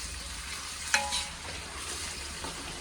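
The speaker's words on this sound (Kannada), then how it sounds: "ಆನಿಯನ್ಸ್ ಇನ್ನ ಫ್ರೈ ಆಗಬೇಕು" Onions and coriander fry in ghee for a chicken biryani, giving a steady close sizzle with a sharp stirring clatter near the start and softer scraping afterward, with no talking.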